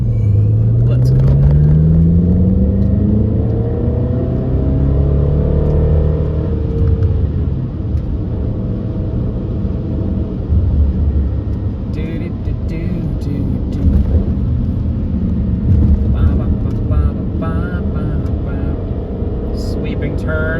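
A BMW X5M with a modified exhaust flap accelerates past a truck, a loud deep engine rumble rising through the gears with occasional clicks, heard from inside the car.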